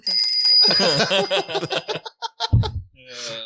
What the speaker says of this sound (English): About to hear the bell.